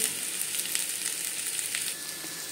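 Steady, dense sizzling of vegetables frying in a pan, a continuous crackle with occasional brighter pops, close and fairly loud with no talking.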